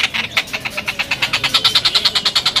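An adult tengkek kingfisher calling non-stop, a rapid, evenly pulsed run of bright repeated notes with a machine-like, engine-like rhythm, loud and close with no talk over it.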